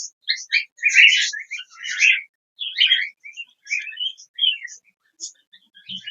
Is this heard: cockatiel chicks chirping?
yes